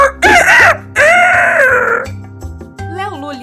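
Cartoon-style rooster crowing in a children's animal-sounds song, two loud drawn-out crows over a steady musical backing, followed by a brief sung phrase.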